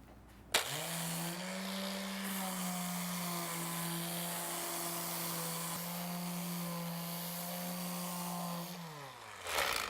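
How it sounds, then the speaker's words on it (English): An electric sander starts abruptly, whirs at a steady pitch for several seconds, then winds down, with a rough grinding rasp against wood. "remember when you're sanding to always go with the grain"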